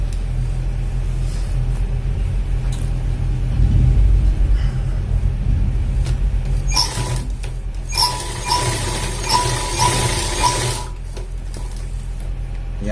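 A sewing machine stitches the back pocket of a pair of pants. It runs in short bursts of fast mechanical whirring and clatter over a steady low hum, then stops between runs. No one speaks.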